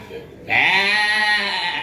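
A single goat bleats loudly and close by, a sustained wavering cry beginning after a brief quieter moment and holding for over a second.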